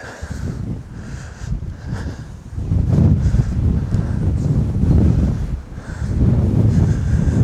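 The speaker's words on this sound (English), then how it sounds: "Wind's blowing up here." Wind gusts and buffets the microphone outdoors on a riverbank while fishing, a steady low rumble that strengthens midway and stays loud, with no talk.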